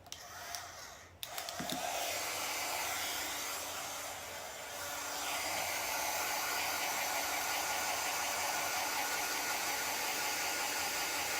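Hair dryer blowing on drying paste, a steady close roar of whooshing air that clicks on after a brief pause and holds continuously, dipping slightly once before settling into an even drone, with no one talking.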